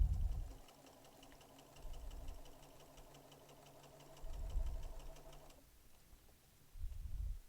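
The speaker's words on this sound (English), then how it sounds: "So let's go and do a real quick sew here." Quilting sewing machine stitching a quarter inch from a marked line, a steady close mechanical hum running for several seconds before stopping, with soft handling thumps around it.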